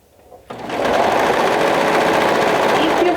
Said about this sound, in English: So let's sew this with a 1/2 inch seam allowance.